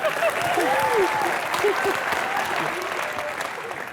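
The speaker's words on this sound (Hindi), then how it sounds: "जोरदार तालियों से" Loud, steady applause from a large studio audience at a TV comedy show fills the whole stretch, with a few cheers and whistles rising above the clapping.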